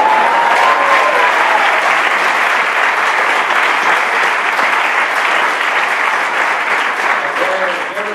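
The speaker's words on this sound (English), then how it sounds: "for those of you who posted those notes, big round of applause" A Queen's School of Business Class of 2015 graduation audience claps loudly and continuously, a dense sustained roar of many hands that tapers slightly at the end.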